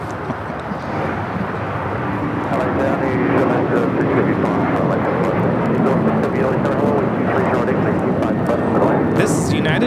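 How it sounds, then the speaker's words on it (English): A United Airlines Boeing 737-900ER takes off at LAX, a loud continuous jet roar that builds and holds with people talking over it. "1216 taking off to Houston Intercontinental on the 737-900ER."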